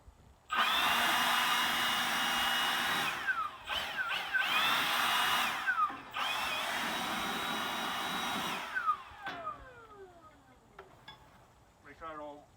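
Compressed air or a leaf blower blasting debris off a zero-turn mower deck after a pulley and belt replacement, loud steady hissing roar in several long bursts with brief gaps, tapering into short puffs and faint talk at the end.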